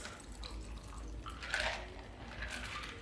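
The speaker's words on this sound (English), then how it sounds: "We're going to pour it into our rocks glass." A whiskey sour cocktail pours into a rocks glass, a soft steady trickle of liquid with a brief brighter splash near the middle, fairly quiet and without any talk.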